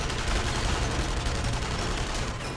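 Dense, continuous gunfire in the video game Enemy Front, a loud unbroken barrage of rapid shots and blasts filling the whole short stretch.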